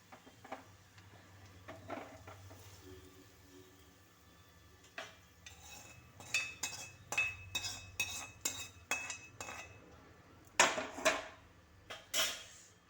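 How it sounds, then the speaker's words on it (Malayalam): Clay cooking pot being shifted on a stove while onions cook, a run of sharp clinks and scraping knocks, sparse at first then clustering in quick bursts, close and fairly quiet. "ഇനി നമുക്ക് ഈ ചട്ടി ഒന്ന് മാറ്റി കൊടുക്കണം"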